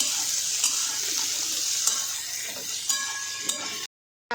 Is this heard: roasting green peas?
yes